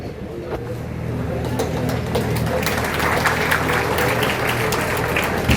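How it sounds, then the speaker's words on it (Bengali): A crowd applauds at a felicitation ceremony for students, a steady, fairly loud wash of clapping that holds evenly throughout. "সবাইকে জোরদার হাততালি দেওয়ার জন্য অনুরোধ করছি"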